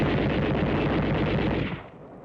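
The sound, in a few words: machine gun fire in 1945 combat newsreel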